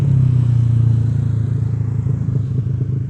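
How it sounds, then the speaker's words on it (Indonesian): A tired, daily-ridden Yamaha NMAX scooter fitted with a 32 mm throttle body and Juken 5+ ECU runs loud and close, its steady low engine drone holding throughout with a slight rattly texture and no talk. "motor ini adalah motor harian NMAX"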